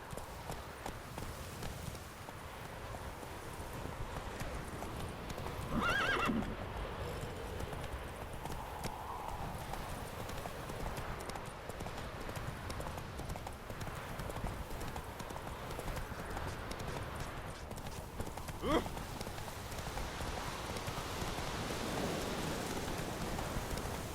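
Hoofbeats of a horse running in The Witcher 3 video game, a steady clip-clop rhythm continuing throughout alongside light rain-like patter and ambient game sounds, with a brief neigh-like accent near the start.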